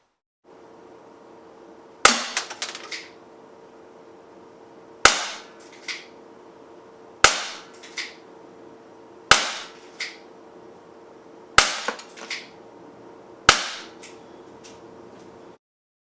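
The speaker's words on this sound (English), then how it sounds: "Here's a shot group from about 20 feet shooting freehand while standing." Six sharp, loud pops from a Smith & Wesson 327 TRR8 BB pistol fired freehand at a target about 20 feet away, spaced roughly two seconds apart, each with a brief ringing tail over a steady low background hum, with no talking.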